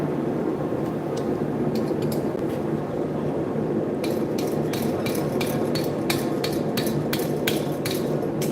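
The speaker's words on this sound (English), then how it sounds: "I'm just using light hammer blows to get this in place" Light hammer blows tapping a craft piece into place, first a few scattered taps and then a steady run of sharp, close knocks over a constant background hum.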